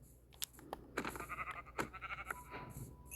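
Sheep in the video game Minecraft let out a series of short, clear bleats, several calls repeating at an uneven rhythm against a quiet background.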